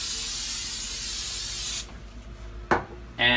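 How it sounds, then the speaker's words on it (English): Vegetable cooking spray hisses from a can in a long, loud continuous burst over carrots in a roasting pan, then stops, followed by a short clunk and a brief second spray. "lightly spray the pan with some of this vegetable cooking spray"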